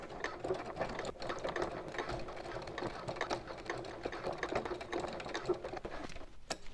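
Sewing machine stitching a seam on a small fabric bag, with rapid, steady mechanical needle clatter running continuously and close by, dotted with faint clicks.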